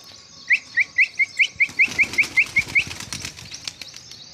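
A flock of pigeons takes off after a whistle, with a quick rhythmic series of about a dozen sharp chirping pulses and loud wing flapping close by, fading into softer flutters as the birds fly away.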